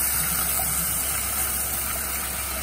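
Milk pours into a pan for a white sauce gravy with corn and capsicum, a steady, loud rushing gush of liquid that continues without a break and without speech.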